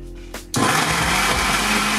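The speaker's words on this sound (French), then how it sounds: "On va blender ça." A blender kicks on after a brief quiet start and runs loud and steady, churning a thick plant-based smoothie bowl mixture at close range with no talking.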